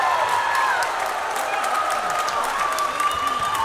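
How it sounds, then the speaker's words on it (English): The Mayer Lutheran home crowd erupts at a high school girls volleyball block, with a sustained roar of applause and cheering that fills the gym for several seconds. "you heard the roar from the Mare Lutheran crowd there"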